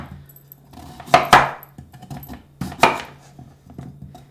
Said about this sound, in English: we're just going to cut them maybe in about 1 centimeter thick slices